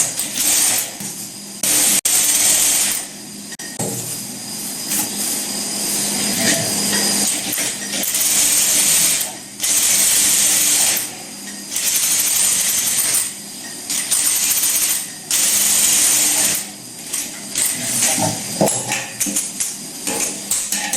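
Sewing machine stitching a nighty in a tailoring class, a loud continuous mechanical whir running in long bursts with brief pauses between them, no talking.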